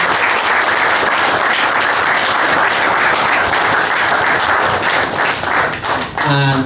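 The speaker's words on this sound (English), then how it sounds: "can you give a round of applause for the oath of allegiance?" Loud, dense applause from an audience at a Sierra Leone citizenship ceremony after the oath of allegiance, a continuous roar of clapping that thins out at the very end.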